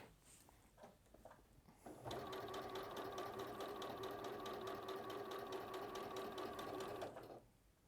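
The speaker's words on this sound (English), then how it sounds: "I'm just going to stitch the bias binding on" A sewing machine runs steadily for about six seconds, stitching bias binding onto a backpack; the rapid, even mechanical whirr starts abruptly after a quiet lead-in and stays loud and close before stopping.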